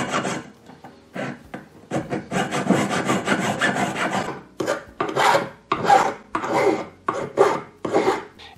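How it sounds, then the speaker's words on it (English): A metal file rasps across a jewellery tube as it is trimmed to a bracelet's width, with steady bursts of strokes that run together early and then come as separate rhythmic passes, close and clear. "so I can just file it down now to the same width as the bracelet"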